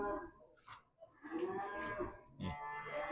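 A young Limousin bull at a livestock market gives a few short, close, throaty moos with brief gaps between them.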